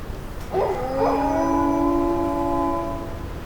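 A long, mournful howl rises and holds steady for about three seconds in Space Engineers, over a faint hiss of background noise.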